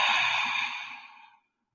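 A single long, breathy exhale during a yoga side-body stretch, close and soft, fading out after about a second and a half with no talking.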